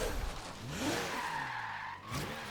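Braking in the Forza Horizon 3 racing game: tires skid and squeal steadily for a couple of seconds as the car is hauled down from high speed. An engine drones underneath, and the sound dips briefly near the end before picking back up.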